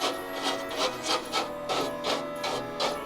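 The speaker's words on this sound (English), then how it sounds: "what I have here is this nylon brush, and I've just been getting like the big chunks of the kind of ceramic dust" A nylon brush scrubs loose ceramic dust off a surface in quick, close, rhythmic strokes, about eight rough scratchy swipes in three seconds with no talking.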